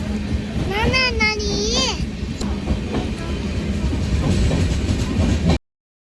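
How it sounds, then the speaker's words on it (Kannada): A train rumbles steadily as it pulls into a station, with a brief high, horn-like tone near the start and children's voices nearby. "ಟ್ರೈನ್ ಬಂದ್ಬಿಡ್ತು."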